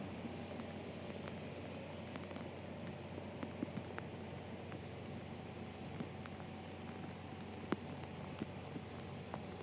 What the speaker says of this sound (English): 4:15 local time, and absolutely pouring rain.